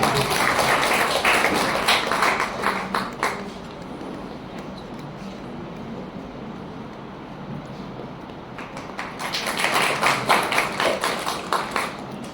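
A college lecture audience claps to welcome a guest, with dense, steady applause at the start that fades into a lull of murmuring room noise before a second swell of clapping.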